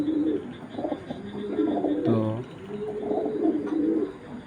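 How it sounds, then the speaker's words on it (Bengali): A female pigeon, a grizzle racer kept with a paired male, gives a few soft coos close by, with a brief louder throaty call in the middle and other birds faintly around. "এটা ডাকতেছে এটা নর না ভাই এটা মাদি কবুতর"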